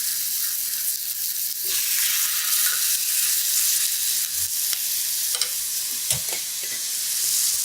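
Pork chops sizzling as they go into a hot pan, a continuous loud hiss with a few sharp crackles and pops scattered across it, no talking.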